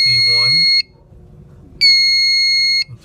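Smoke detector alarm from a newly installed fire alarm system, sounding two loud, sustained high-pitched tones separated by a second of quiet, with a brief voice at the start.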